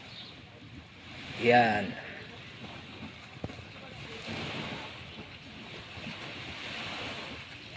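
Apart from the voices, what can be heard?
speedboat ride at sea with waves and wind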